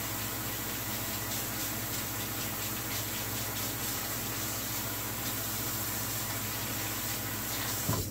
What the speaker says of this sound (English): Now I can wash my knife.